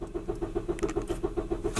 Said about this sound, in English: car has given up